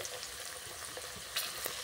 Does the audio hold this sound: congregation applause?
no